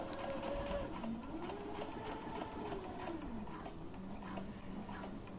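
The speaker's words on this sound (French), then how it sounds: "Et je couds jusqu'à l'angle." Sewing machine stitching a fabric strip up to a corner on a Christmas box project, a steady continuous motor hum with rhythmic needle chatter running throughout.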